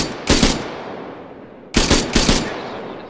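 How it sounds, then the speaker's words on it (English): Loud bursts of gunfire in the video game Arma 3: a short volley, a pause of over a second, then two more quick bursts close together, with no talking. "I'm shooting it."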